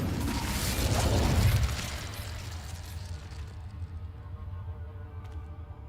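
Incendio fire spell cast in Hogwarts Legacy, a burst of whooshing flame that peaks in the first two seconds and then fades into a faint lingering crackle.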